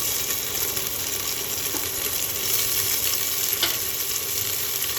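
Onions that have browned slightly sizzle steadily in a hot pan as tomatoes go in, giving a continuous close frying hiss with a few faint clinks and no talking.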